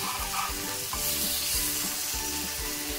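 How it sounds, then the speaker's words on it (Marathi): Chopped coriander frying in hot oil for a masala pomfret fry, a loud steady sizzle with the occasional scrape of stirring, close and continuous with no voices. "कोथिंबीर टाकल्यानंतर तिला देखील आपण थोडी तेलावर शिजवून द्यायची"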